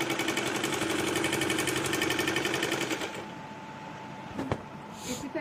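An electric sewing machine runs in a steady, rapid stitching rhythm while seaming a full-flare Punjabi Patiala salwar, loud and close for about three seconds before cutting out to quieter room noise and a single clunk.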